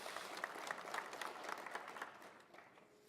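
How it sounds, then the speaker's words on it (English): Applause from a conference audience at a cannabis investor event, a brief spell of moderate clapping heard from a distance, dense and even before thinning out toward the end. "And a round of applause."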